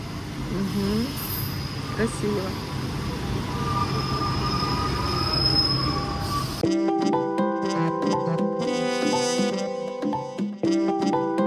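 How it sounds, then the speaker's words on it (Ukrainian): A train pulling into a station in Portugal, first as a broad rumbling roar with rail noise, then changing to loud sustained tonal squeals and whines from the brakes and wheels as it comes to a stop nearby. "Ми чекаємо на потяг він зараз має вже бути."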